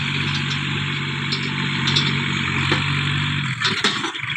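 Farm tractor engine running at a steady idle nearby, a continuous low mechanical drone with a brief shift and a few knocks toward the end.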